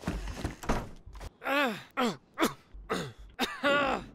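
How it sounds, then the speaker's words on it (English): Several rough, wheezy coughs and groaning exhalations from a character in the game DayZ, in quick succession, close and fairly loud, with short gaps between them. "My guy is coughing more and more."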